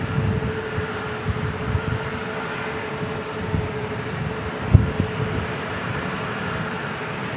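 An aircraft at San Diego International Airport, a busy single-runway airport, gives off a steady, moderately loud engine drone with a faint hum, plus occasional soft thumps and bumps nearby.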